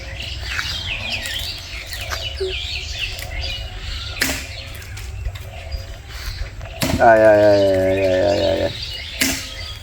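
Pet birds at a family home chirp, tweet and squawk throughout, with a louder harmonic call near the end, mixed with close indoor chatter and household noise.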